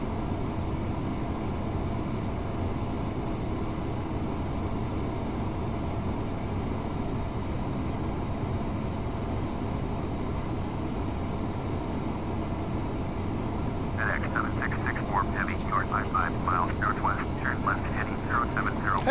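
Steady, close engine and airflow roar fills the cockpit of an MD-11 airliner in flight, broadband and unbroken, with a brief chirping warble of instrument tones near the end.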